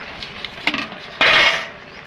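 A metal lid clinks and settles onto a curry pot, a few light taps followed by a brighter ringing clatter as it lands, close and fairly loud.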